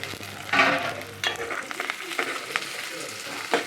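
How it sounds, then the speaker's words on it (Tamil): Green chillies and curry leaves frying in hot oil for a fish curry, with a sudden loud spitting sizzle followed by scraping stirs and crackles, close by. "பச்சை மிளகா கருவேப்பிலை எல்லாமே ஒன்றா போட்டுருங்க"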